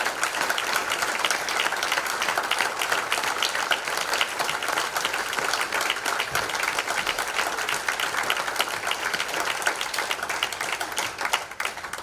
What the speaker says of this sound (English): If you can sustain the applause until Hannah's up on the stage, that would b